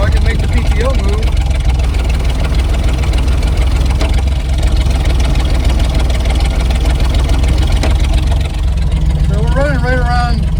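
A 1969 C30 truck engine idles out of gear in neutral, a loud, steady low rumble with mechanical whine, heard close with someone talking over it.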